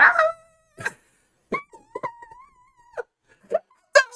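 A person imitates a dog with a series of short whining, yelping and moaning vocal bursts, separated by pauses, close and fairly clear.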